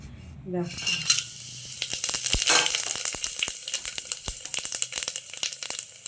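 Onions frying in oil inside a pressure cooker, a steady close sizzle with repeated metallic clinks and scrapes of a spoon against the pot, no talking.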